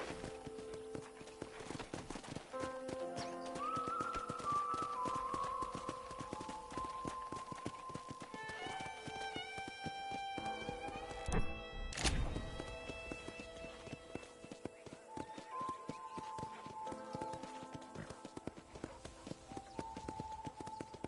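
Horse hooves clip-clop at a steady riding pace in Red Dead Redemption on a ranch, running continuously under game music with a brief louder burst midway.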